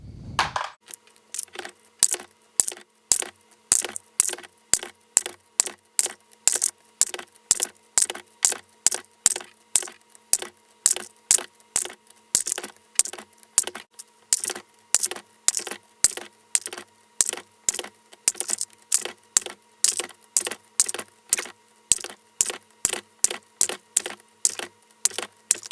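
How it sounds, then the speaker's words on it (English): 223/556 brass cases run through a Hornady full-length sizing die make a steady, loud series of sharp clacks and cracks, one press stroke after another in an even rhythm, close and with no talking. "I'm going to run these all through really quick through the Hornady die"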